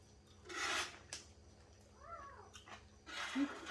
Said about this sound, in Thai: แมวเขา